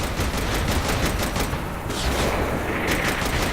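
Rapid machine gun fire from the video game Saints Row The Third, a dense, continuous burst of gunshots running loud and steady through the whole stretch with a brief dip midway.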